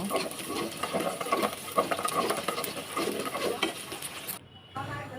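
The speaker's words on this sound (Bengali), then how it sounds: "এখন আমি হালকা ভেজে নেব, একটু নাড়াচাড়া দিয়ে ভালো করে একটু ভেজে নেব।" Egg is stirred and lightly fried in a pan, giving a steady scraping and sizzling clatter that runs close and continuous, then briefly cuts out near the end.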